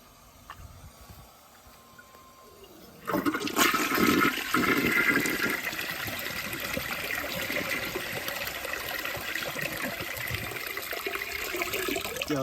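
A 2005 Briggs Altima toilet flushes loudly and close by. A sudden rush of water starts a few seconds in and is followed by a steady roar of refilling and draining that lasts to the end, with no voices.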